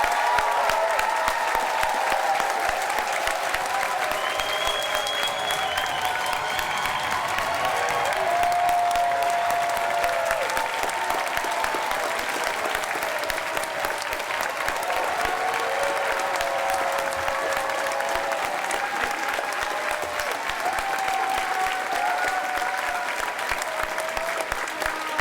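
A large crowd at a midyear completion ceremony applauds in a sustained, even roar of clapping that lasts about twenty-five seconds, with faint cheers rising over it.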